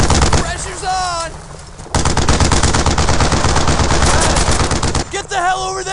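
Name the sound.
gunfire in Brothers in Arms video game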